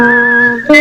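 Whistled tune from a western TV series theme song, a single clear sustained whistled note held alone and loud, briefly breaking into another note at the end.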